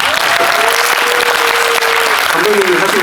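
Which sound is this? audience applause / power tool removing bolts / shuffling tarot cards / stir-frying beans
audience applause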